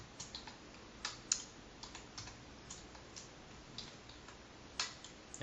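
Code being typed on a computer keyboard: light, irregular clicking keystrokes with small clusters and pauses, soft and steady over quiet background hiss.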